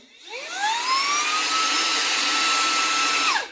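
A Rowenta X-Touch AC9736WO handheld vacuum cleaner powers on with a rising whine, runs loud and steady for about three seconds, then winds down as it is switched off, with no talking.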